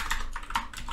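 Computer keyboard keys typing a code comment, about four quick clicks in an uneven rhythm, close and fairly quiet with no voices.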